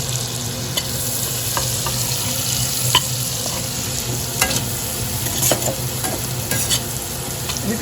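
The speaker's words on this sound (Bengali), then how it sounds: "এর মধ্যে কুচানো পেঁয়াজটা দিয়ে দেবো।" Chopped onions fry in about two teaspoons of butter for a restaurant-style butter chicken, a steady close sizzle with occasional stirring scrapes and clicks, no talking.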